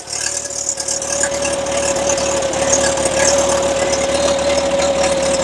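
A Bobcat skid steer's engine idles steadily and evenly, a constant close drone with a strong tonal hum that holds level throughout, no voices over it.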